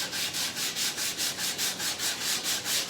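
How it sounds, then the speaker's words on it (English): Rhythmic back-and-forth hand sanding on maple, about a dozen even gritty strokes in quick succession, close and fairly loud. "So a little bit of sanding."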